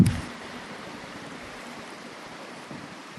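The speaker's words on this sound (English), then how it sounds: "If you listen now, there's nothing but birds and water." A rocky stretch of the Salmon River in New York flows steadily in a soft, even wash, with no voices and no clear birdsong standing out, after a brief bump at the start.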